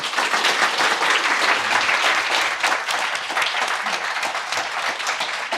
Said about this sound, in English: can we have one more round of applause for him